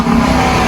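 The V8 engine of a 2024 Dodge Durango 392 SRT roars in a short, loud, continuous burst, heard close with no talk over it.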